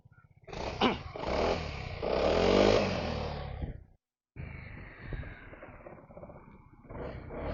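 A 2025 QJ Motor Fortress 350 motorcycle engine is started and revved close by: a loud rising rumble, a brief cutout, then a lower steady run with another swell near the end.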